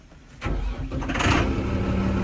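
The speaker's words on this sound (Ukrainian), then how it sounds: "О, тут звук мотора сразу слушається." A Lovol tractor's diesel engine cranks and catches, then settles into a steady, close mid-pitched idle that runs alone for a couple of seconds.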